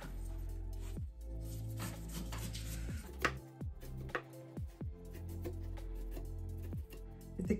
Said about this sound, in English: we're going to remove the top part of our coconut. So you will need a cleaver knife like this. So we're going to start shaving it off